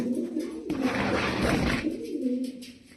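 Grizzle pigeons cooing in a room, a low, close, rolling coo that swells in the middle of the clip over faint background noise.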